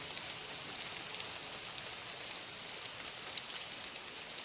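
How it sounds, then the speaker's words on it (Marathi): Steady, even hiss of rain falling at a hill-station bird sanctuary in Matheran, a constant soft wash of patter with no voices. "फक्त पावसाचा आवाज येईल आणि पक्ष्यांचा वगैरे."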